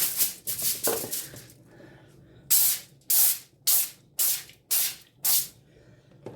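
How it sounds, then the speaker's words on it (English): Cooking spray is sprayed onto baking foil in a kitchen, about a dozen short sharp hissing bursts, the first several quick and ragged, then six evenly spaced squirts after a pause. "I'm just going to grease this foil."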